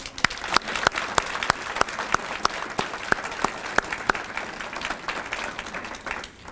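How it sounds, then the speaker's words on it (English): Audience applause for volunteers at the Farmington Hills annual volunteer breakfast: sustained, dense clapping from a large room crowd, steady throughout and tapering slightly at the end. "join me in a round of applause for all of those volunteers"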